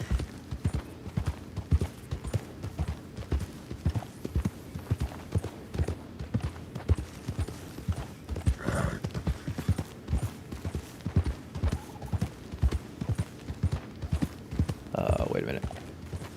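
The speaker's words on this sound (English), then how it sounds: "My horse is freaking out." Horse hooves clip-clop at a steady walking rhythm throughout in Red Dead Redemption 2, close and continuous, with occasional brief voice-like sounds and ambient noise mixed in.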